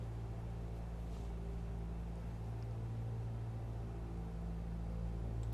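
Cessna 172 engine running at magneto check run-up power, a steady loud droning hum with a strong low tone and no speech.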